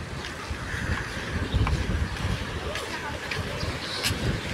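Wind buffets the microphone and rough sea surges along the coast in Sorsogon during Super Typhoon Uwan, a loud continuous roar with waves breaking underneath and a voice speaking over it.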